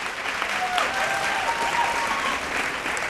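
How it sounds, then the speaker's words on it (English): Sustained audience applause for the sponsors and production partners of a televised vocal competition show, a steady, dense roar of clapping from a large crowd throughout. "Massive round of applause, please, for all our sponsors and our production partners"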